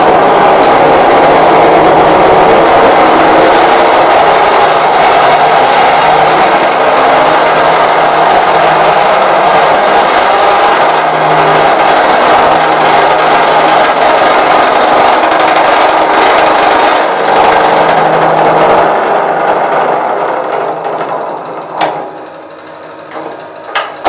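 A wood lathe bores a hole into a turned vessel to prepare it for hollowing, giving a loud, sustained grinding whir that fades and cuts out near the end.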